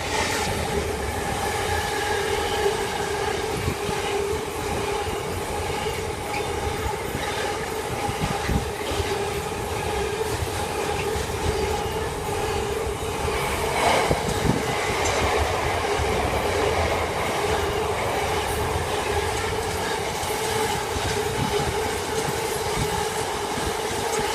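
A freight train bound for Felixstowe rolls past the Metheringham level crossing, a continuous loud rumble with rhythmic clickety-clack of wheels over the rails and occasional squeal, steady throughout with no talk.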